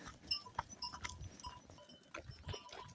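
Goats shift about in a pen on a Nepali goat farm, with faint bleats, light clinks and shuffling close by at low volume, with no talk.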